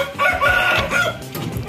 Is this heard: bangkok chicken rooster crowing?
yes